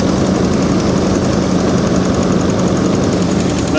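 A Chevy SSR engine with its brake booster disconnected runs rough at close range, a steady loud idle carrying a rapid, uneven tapping knock throughout.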